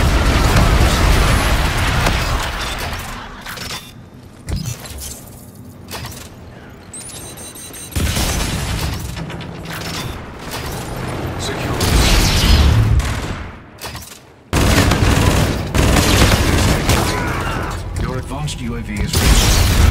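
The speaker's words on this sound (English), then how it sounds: "Danger close, ground team. Missiles incoming." Missile strikes and gunfire in Call of Duty: Infinite Warfare multiplayer make loud booming explosions and rattling shots in waves, with brief quieter gaps and radio-style voices talking over them.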